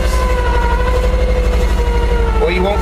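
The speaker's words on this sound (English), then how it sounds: "siren works" A siren on a 1959 Chevy Viking 60 tow truck wails steadily and loudly close by, a sustained droning tone over the truck's running engine.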